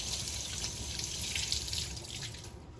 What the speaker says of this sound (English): wash my hands right quick.